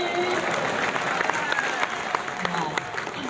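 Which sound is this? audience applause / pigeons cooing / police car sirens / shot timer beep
audience applause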